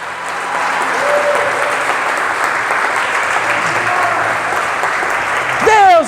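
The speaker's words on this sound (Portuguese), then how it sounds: "Então aplauda o Senhor, aplauda com força" A church congregation at a celebration service breaks into loud, sustained applause for the Lord, an even, dense wash of clapping throughout, with faint voices and a short swell near the end.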